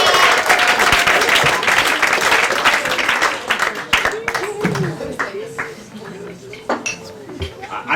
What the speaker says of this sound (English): I think I deserve a bit more applause.